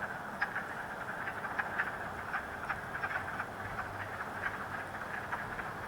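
Male wood frogs call in spring as a steady chorus of short, rapid clucking croaks, mid-distance and moderately faint, continuing without voices.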